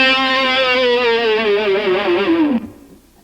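Electric guitar note, held and wiggled with the whammy bar while bent downward, the pitch sliding lower in a wavering vibrato for about two and a half seconds before cutting off.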